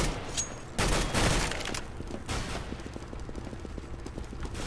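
Gunfire from a Nova pump shotgun in Counter-Strike: Global Offensive, with a few loud blasts early on, then quieter rapid shots and game clatter continuing in the background.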